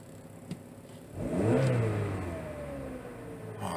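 A 2011 Chevrolet HHR with an exhaust cam fault accelerating on the road, the engine note climbing in pitch over a couple of seconds and then easing into a steady cruising hum, heard from inside the car with no talk.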